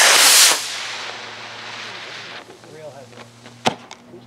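A loud hissing rush as a 3D printed model rocket ignites and launches, fading quickly within the first half second, followed by a faint outdoor background with a sharp click later.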